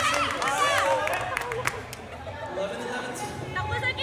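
A crowd shouts and chatters around a women's doubles pickleball championship game at a novice-level tournament, with overlapping voices, yelps and some clapping filling the whole stretch.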